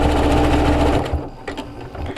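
Sewing machine stitching elastic onto a fabric face mask, a loud steady motor whir for about a second, then stopping into short bursts and quieter handling sounds.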